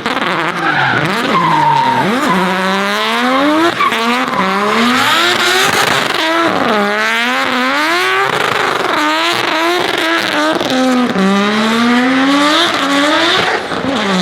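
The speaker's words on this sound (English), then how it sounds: "doesn't sound too shabby either, does it? Rorty engine of Ricky Taylor" A race car engine climbs the wet Goodwood hill on wet-weather tires, loud and close, revving up through gear after gear with rising rorty pitch sweeps and brief drops between shifts, no talking.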